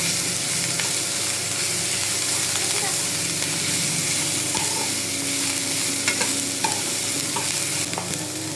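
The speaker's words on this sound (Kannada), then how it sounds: "ಹಸಿ ವಾಸನೆ ಹೋಗುವಷ್ಟು ಫ್ರೈ ಮಾಡುವ." Ginger garlic paste fries with capsicum in a pan, giving a steady close sizzle with light scraping stirs throughout and no one speaking.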